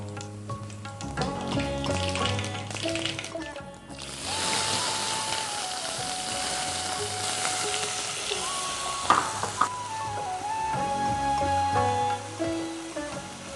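Cumin and mustard seeds fry in about three spoons of hot oil, giving a loud, steady sizzle with crackling pops that swells after a brief pause and carries on without a break.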